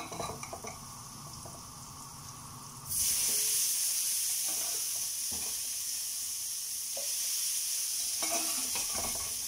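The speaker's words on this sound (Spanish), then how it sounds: "Ahí ustedes van a agregar sus papas." Potatoes hit hot oil with garlic in a pan, setting off a sudden loud burst of sizzling that stays strong and steady, with occasional stirring scrapes, close up and with no talk.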